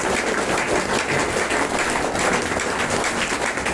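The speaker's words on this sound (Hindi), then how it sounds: "जबरदस्त तालियां दोस्तों, तालियां बजती रहनी चाहिए, तालियों की गूंज बजती रहनी चाहिए।" Dense, steady applause from an audience at a meeting in Patna, a loud continuous wash of many hands clapping throughout.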